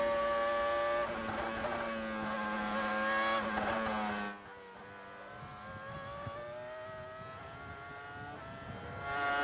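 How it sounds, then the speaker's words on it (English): Formula One cars race along the pit straight toward Copse at Silverstone in the F1 2001 video game, a Jaguar among them, with continuous high-pitched engine whine rising and shifting as cars pass, then a brief dip before building again. "heading down the pit straight towards Copse. Eddie working quite hard in that Jaguar"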